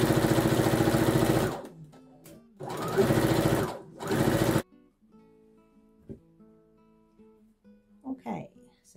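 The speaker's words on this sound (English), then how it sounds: "Keep sewing smoothly." A sewing machine stitches an infinity scarf in three loud, close, steady bursts over the first few seconds, each broken by short pauses, then falls quiet, leaving only faint low background tones.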